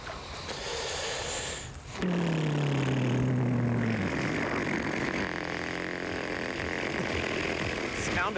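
Man in a bass boat on the Ouachita River imitates a trolling motor with his mouth, a buzzing, engine-like vocal drone with falling pitch slides, heard over outdoor background noise.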